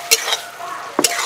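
Bottle gourd fries in a pan under a soft background sizzle, broken by two sharp scraping strokes of a spatula stirring it, one near the start and one near the end.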